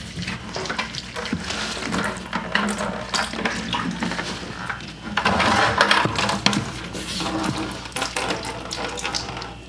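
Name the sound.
water draining from commercial washing machine hose into bucket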